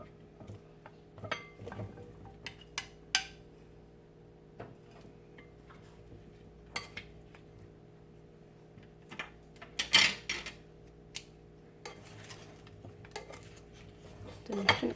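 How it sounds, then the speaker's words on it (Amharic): Roasted potatoes with garlic and rosemary are turned over in a pan, giving sparse metallic clinks and scrapes of a utensil against cookware over a quiet hum. "ከዛ ድንቹን እንደዚህ ገለብጣለሁ ማለት ነው።"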